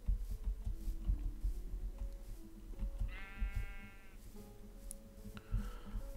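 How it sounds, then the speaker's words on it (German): A sheep in the Minecraft video game bleats once in a clear, wavering call midway through, with a shorter bleat near the end, over a low, steady game hum and background sounds. "Oh, ein Schaf."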